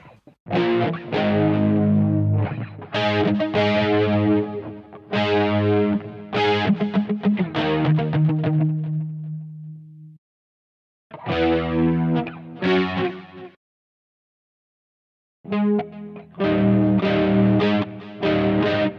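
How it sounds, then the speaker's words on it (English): Distorted electric guitar strums a progression of power chords with chorus effect, chunky rhythmic hits and ringing sustained notes, broken by short pauses between phrases, loud and close with no talking. "I'll play it one time through as power chords"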